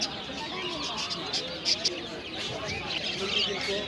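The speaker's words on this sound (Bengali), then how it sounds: "সব ধরনের এখানে পাখি আছে" Birds call at an outdoor bird market with parrots and ducklings for sale, short chirps and tweets over a busy murmur of crowd voices nearby.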